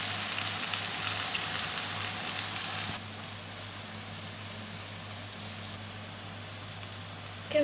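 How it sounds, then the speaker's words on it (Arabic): Chicken breasts sizzle steadily in a hot pan after being flipped to brown the second side, a dense, even frying hiss that drops slightly in level partway through and continues without talk. "كده الفراخ بعد ما خدت على الوش ده تحمير قلبناها على الوش التاني"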